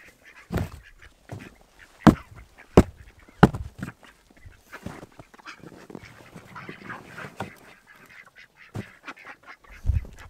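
Ducks quack and honk in scattered, loud bursts close by on a farm, with quieter chatter from the flock in between calls.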